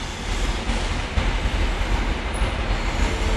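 A Class 43 HST train rolls through a station with a steady, loud rumble and rail noise, close by and constant throughout.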